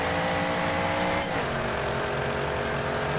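The straight-eight engine of a 1927 Delage 15S8 racing car in a historic racing sim at Feldberg. It holds a loud, steady high-pitched drone, then drops in pitch mid-clip as the car brakes and settles into a lower hum.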